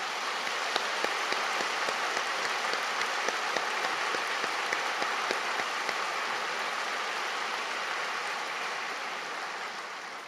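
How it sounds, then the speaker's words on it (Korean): A Korean church congregation at a Sunday worship service breaks into dense, steady applause, a wash of many hands clapping that fades slightly toward the end. "우리 한번 인사를 드릴 테니까 박수해 주시기 바랍니다"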